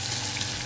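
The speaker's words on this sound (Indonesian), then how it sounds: "Ini kita goreng sampai layu ya Bunda" Shallots and anchovies sizzle in a pan over medium heat for sambal, a steady close crackle of hot oil heard alone and unbroken.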